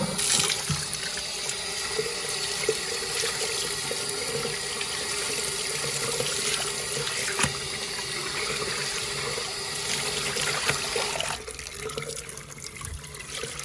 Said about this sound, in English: you are going to rinse the sponge